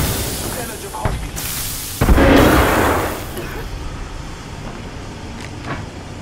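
A frag grenade goes off in a video game: a sudden booming blast with a roaring tail about two seconds in, over ongoing battle noise.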